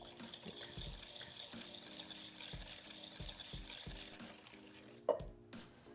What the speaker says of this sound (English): Let's whisk it up.